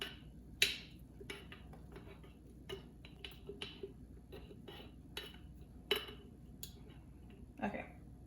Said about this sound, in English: Trying to get all that dry flour off the bottom and mix it up really